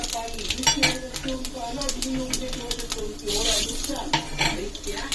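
Two dried red chillies and panch phoron crackling in hot oil in a pan, a sizzle beneath clanking of a utensil against metal, with someone talking over it nearby.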